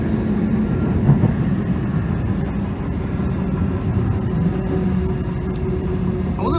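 A V/Line H car set passenger train runs on rails, a steady loud rumble with faint rhythmic clatter heard from on board.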